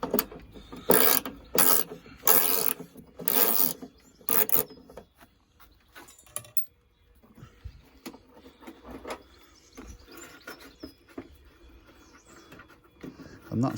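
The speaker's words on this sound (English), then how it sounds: "Get my handy ratchet spanner," Ratchet spanner clicking as it backs out the front wing bolts on a Vauxhall Opel Corsa C, several loud, close bursts of rapid ratcheting in the first few seconds, then quieter tool handling and scraping.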